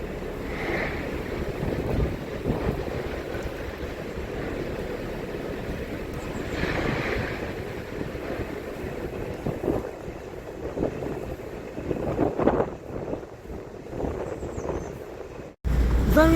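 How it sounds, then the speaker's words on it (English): Wind buffets a canal boat at a lock, a continuous rough roar with gusty swells and microphone rumble, ending in a sudden cut. "But that wind's getting up"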